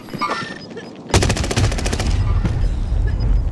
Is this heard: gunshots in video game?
yes